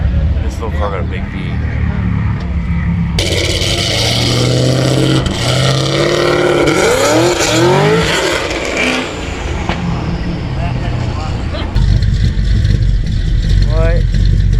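A Toyota Prius fitted with a V8 engine runs at a car show, a loud, steady rumble with rising revs throughout, while people talk excitedly over it.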